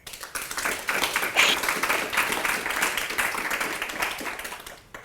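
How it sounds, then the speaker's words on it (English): A crowd at a tech careers event claps steadily for about five seconds, a dense, even wash of applause that tapers off at the very end. "Guys, let's give them a round of applause."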